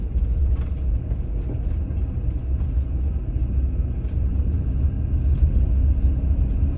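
A Panoramic van driving on a forest road in Coconino National Forest, a continuous low rumbling road and engine drone heard from inside, with faint rattles and knocks over uneven ground and no talk.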